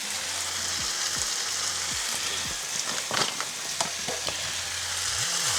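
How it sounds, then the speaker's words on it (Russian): Steady sizzling in a pan with repeated scraping strokes of a utensil as flour is stirred into sauce for chicken goulash, no voices. "Теперь перемешаем."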